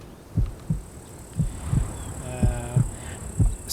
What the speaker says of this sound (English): I'm actually getting close to death here. You can see my heart beating.